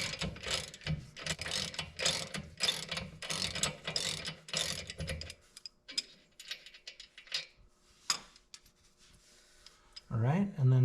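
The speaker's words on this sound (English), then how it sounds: "we're going to start with the lower bolt and washer. We're using a 1/2 inch ratchet for that." A 1/2 inch ratchet works the lower rear shock bolt on a 1995 Honda Goldwing trike, giving close, rapid clicking bursts for about five seconds, then quieter scattered handling noises and a brief voice near the end.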